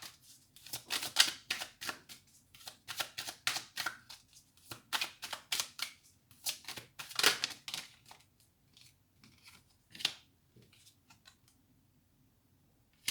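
Tarot cards are shuffled and drawn in a quiet room, a run of quick crisp riffling flicks and snaps in irregular bursts, close and fairly soft, with short pauses between and no talking.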